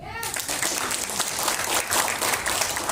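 An audience at a health workshop breaks into applause, dense clapping that fills the moment loudly and evenly, with a faint voice or two mixed in.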